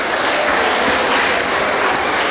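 A crowd clapping for a contestant at a kids' talent show in Gambia, a loud, dense, continuous burst of applause with no break and no voices over it.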